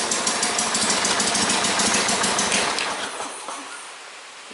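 An old tractor engine idles after a cold start, with a loud, close, rapid knocking chug that runs steadily and then fades away near the end.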